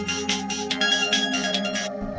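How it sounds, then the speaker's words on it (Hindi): A phone ringtone plays in a dark Hindi horror story, a steady electronic melody with repeating bright chimes over a sustained tonal backing, loud and continuous for about two seconds with no talking. "तभी फोन की रिंग बजने लगी।"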